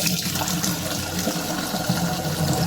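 Rice being rinsed in water for khichuri in a home kitchen, a steady close sloshing and splashing that runs without a break.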